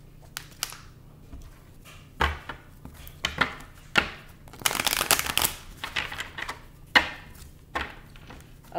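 Tarot cards being shuffled by hand, a run of crisp riffles and flicks with irregular bursts, close and fairly quiet, no talk.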